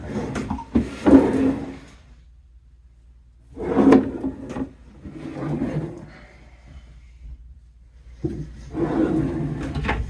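Lined bathroom vanity drawers slide open and shut several times, each movement a soft rumbling slide ending in a thump, spaced apart with quiet gaps between.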